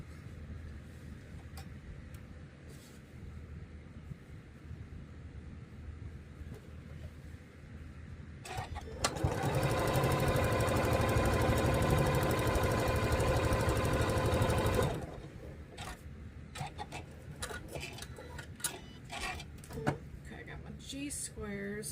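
A sewing machine stitches pieces of a holly tree skirt quilt in one steady, loud burst of about six seconds. Quieter handling sounds come before and after it.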